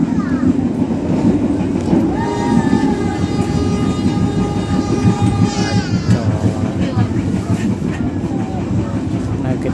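A passenger train on the Jakarta–Merak line rumbles loudly into Cilegon station. Heavy steady rolling noise and clatter from inside the carriage are joined by a long rising squeal of brakes, with voices in the background.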